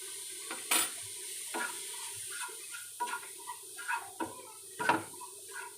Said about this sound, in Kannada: ಕಾಯನ್ನು ಹುರ್ಕೊಳ್ತೇನೆ